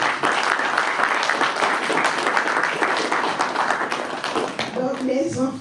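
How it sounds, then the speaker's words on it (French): A church congregation applauds children called to the front during a worship service, with loud, dense clapping that continues for several seconds before a voice begins speaking as it ends. "Vous pouvez les applaudir."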